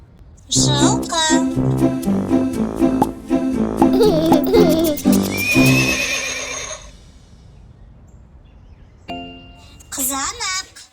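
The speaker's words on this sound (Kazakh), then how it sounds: "жылқы" A horse neighs loudly and close up in a long whinny with wavering pitch, then it goes quiet. A brief voice follows near the end.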